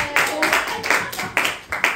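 Students in a classroom clap together on a teacher's cue, a burst of several sharp, loose rounds of claps close by, with a voice over the clapping.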